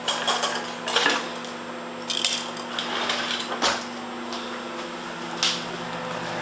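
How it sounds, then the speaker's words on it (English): A whisk stirs buckeye candy mixture in a bowl, giving close, repeated metallic clinks and scrapes against the bowl in an uneven rhythm over a steady background hum. "At 1 minute, I will pull it out and stir it with whisk."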